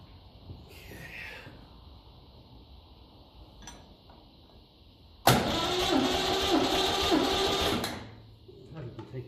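A 1954 Ferguson TEF 20 diesel tractor cranked over by its starter with the engine decompressed, a loud steady whirring grind lasting about three seconds after a stretch of quieter background noise and low-level sound.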